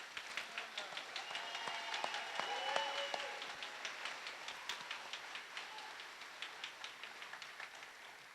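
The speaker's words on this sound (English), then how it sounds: "Let's give them a round of applause." Graduation audience at the Stokes Early College High School commencement applauds the class of 2022, a moderate spread of clapping with distinct individual claps ringing through, gradually thinning out toward the end.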